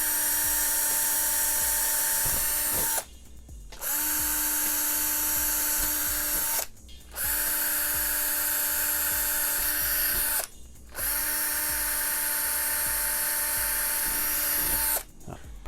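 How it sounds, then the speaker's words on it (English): A power drill bores holes into a modded Arcade1Up NFL Blitz arcade cabinet, four loud, sustained whining bursts of about three seconds each, separated by short pauses, close to the microphone. "So now I've got my 4 markings and we'll drill these out real quick."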